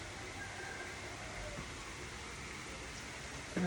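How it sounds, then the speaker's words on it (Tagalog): Steady rain in Baguio City hisses evenly throughout, a constant wash of drops with a brief louder burst near the end. "Ulan sa Baguio."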